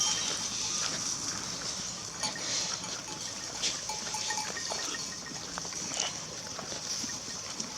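Goats bleat faintly now and then against a steady, hissy outdoor background, with brief rustles and small knocks.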